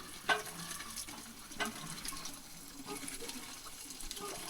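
A woman pumping water by hand in a rural Lao village without electricity: faint, steady splashing and running water with a few soft, periodic pump strokes, heard from a little distance.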